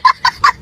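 Chickens clucking close by, four short, evenly spaced clucks in quick succession, clear and fairly loud.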